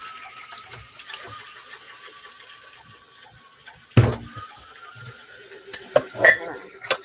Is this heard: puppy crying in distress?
no